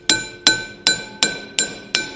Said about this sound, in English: give it a couple taps